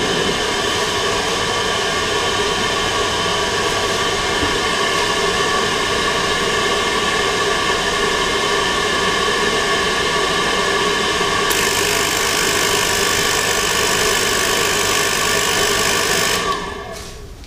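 A Riello RDB oil burner pump and fan motor running close by with a steady, loud mechanical hum and whir, continuous for about sixteen seconds before it begins to wind down at the end.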